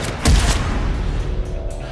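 Gunfire in a trailer for the 2021 film Red Stone: a burst of heavy booming shots followed by a few sharper cracks over a dense, rumbling action mix.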